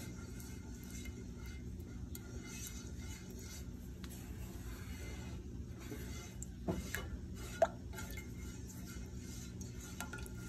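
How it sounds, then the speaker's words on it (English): A spoon scraping and stirring Marsala gravy in a pan, soft and steady over a low hum, with a couple of light clinks partway through. "I'm going to keep stirring"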